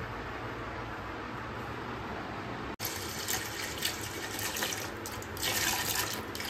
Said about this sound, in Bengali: এই হচ্ছে 5 ফলের রস নেবো একটা বাটির মধ্যে, তারপর গোপালকে স্নান করাবো